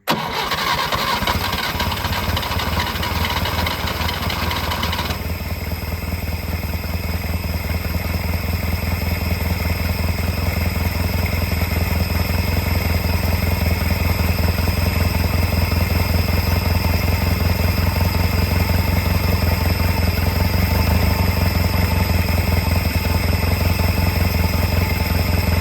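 Peugeot 403 pickup engine running without its air filter, starting with a rough burst and then settling into a steady, loud, close idle with a low rumble that holds for the whole stretch, no talk.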